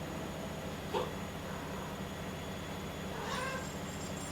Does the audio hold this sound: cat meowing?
yes